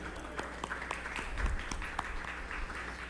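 Faint, steady clapping from an audience at a university investigative journalism prize ceremony, soft and diffuse for about three seconds, with a few brief voices under it.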